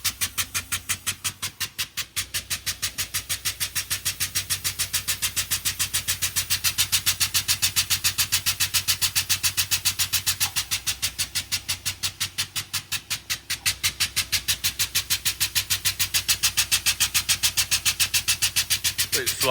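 A heavy 20-ton vehicle lift rising slowly in a workshop, a steady droning motor with a fast rhythmic pulsing hum running continuously and evenly throughout, fairly loud and close.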